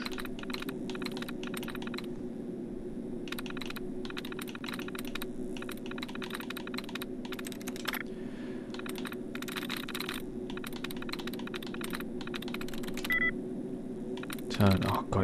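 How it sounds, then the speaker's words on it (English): Sharp, rapid clicks of an Xbox controller's buttons come in dense bursts with short pauses, close and fairly quiet over a steady low hum. "Xbox controller is very clicky"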